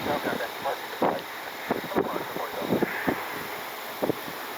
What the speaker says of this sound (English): Luckily the wind is mostly in line with the runway